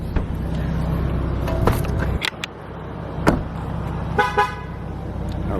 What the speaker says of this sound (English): that honk is no good for nature